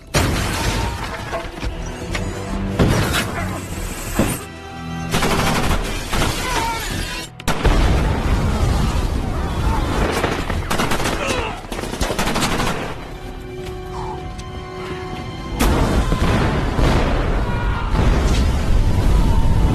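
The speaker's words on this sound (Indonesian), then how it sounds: "mereka justru malah terkena perangkap bom yang Swagger pasang sebelumnya" Bomb trap explosions and gunfire from the 2007 film Shooter, with dense bursts of rapid shots, booms and shattering debris in several loud, near waves, broken by short pauses and mixed with film soundtrack.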